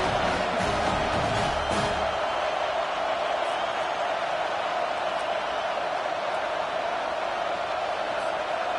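A stadium crowd in the College Football 25 video game cheers after a punt return in a Tennessee game, a dense, steady roar that stays loud throughout.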